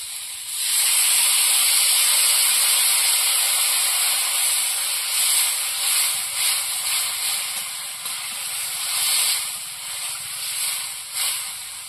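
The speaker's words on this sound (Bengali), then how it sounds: "ওলটা ভালো করে ছাঁচাল দিয়ে নিয়েছি, এবার টক জল ঢেলে দেবো।" Sour tamarind water hits a hot pan while cooking elephant foot yam and fish, setting off a loud, continuous sizzling hiss that swells and ebbs for several seconds.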